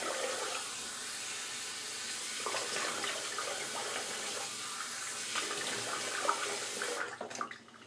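Tap water runs in a steady, close rush as a head is wet before shaving, a continuous splashing flow that breaks up and stops near the end.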